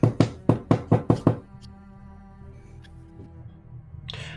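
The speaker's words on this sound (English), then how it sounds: "Can Finn knock on the door while they're talking?" A door is knocked seven times in a quick, even series of loud, close raps, followed by a quiet, humming room.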